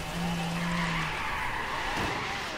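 A Mercedes 300 SEL 6.3 drifts in a racing game, its tires squealing steadily under a droning engine for a couple of seconds, loud and close, with no voices.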